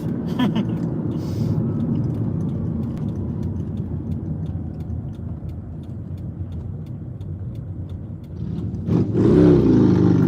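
A passing car speeds through a red light at a street intersection, its engine rumble and tire noise sustained and fairly close, swelling louder near the end as it rushes by.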